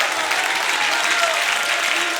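Congregation clapping together during a lively church worship service, a dense, steady wash of applause filling the space throughout with no pauses.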